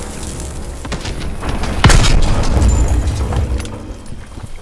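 Grenade detonation in Call of Duty: World War II, a loud close boom bursting out midway through ongoing battle din, followed by a rumbling tail that slowly fades.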